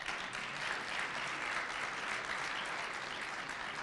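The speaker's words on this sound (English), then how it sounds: "give him a round of applause." Applause for a guest at a university event, a dense, continuous wash of many hands clapping from a crowd, steady and fairly distant.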